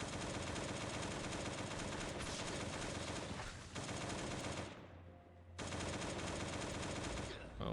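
Rapid automatic gunfire from the survival game Last Day on Earth rattles in long sustained bursts, broken by a brief pause before resuming, loud and continuous.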